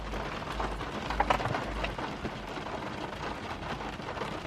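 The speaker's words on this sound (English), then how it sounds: "Sorry, it's raining." Steady rain hisses and patters across the whole stretch, heard from inside a BMW E39 5 Series car, with a low rumble underneath and no voices.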